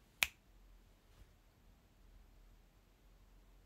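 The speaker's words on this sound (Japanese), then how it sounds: "指パッチンはできるんですけど、" One crisp finger snap cracks out sharply near the start, followed by a much fainter click a second later, then near silence.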